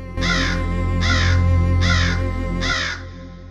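Crows caw four times at an even, unhurried pace. Each call is loud, close and harsh, over a steady low hum.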